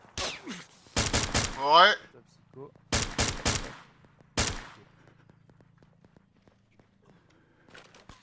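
Loud bursts of .50 calibre machine-gun fire in the military simulation game Arma 3, three short volleys spaced a second or two apart, with someone shouting briefly between the first bursts and then quiet.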